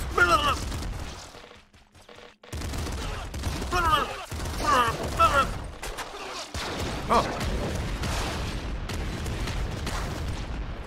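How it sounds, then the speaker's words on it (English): Rapid quad machine gun fire in the top-down shooter Nuclear Throne, sustained dense bursts running through most of the stretch with brief gaps, loud and close over game effects. "Is that a freaking quad machine gun?"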